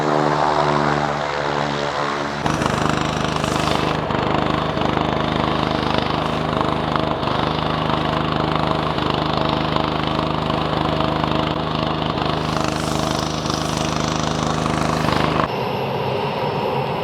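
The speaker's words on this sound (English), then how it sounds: "The plane has landed." A sightseeing propeller plane engine at Mount Cook drones loudly and steadily, its pitch shifting briefly near the start and dropping off toward the end.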